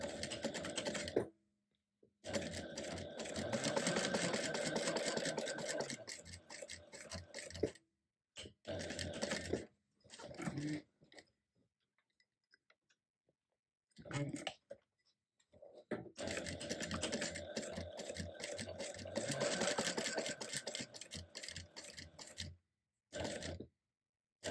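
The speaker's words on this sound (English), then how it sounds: "Now we will be top stitching above the center line and below the top line" A sewing machine runs in long steady bursts while top stitching a fabric clutch, its fast, even mechanical chatter stopping and restarting with short silent gaps between stitch runs.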